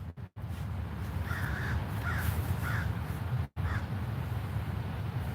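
Several crows caw outdoors, a short series of four harsh calls at moderate distance over constant rumbling wind and background noise.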